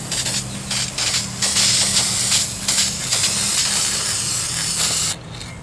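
Spray paint hisses from a can onto a sand-textured prop helmet. Several close, loud bursts of spray with short gaps between them, ending abruptly.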